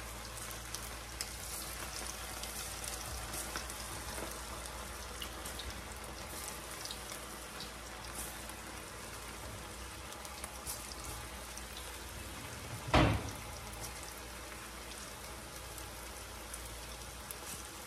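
Chicken pakoda pieces sizzle steadily in hot oil with a dense, even crackle like light rain, and a single brief clunk stands out near the end.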